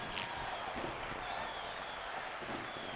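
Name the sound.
football crowd cheering at a high school game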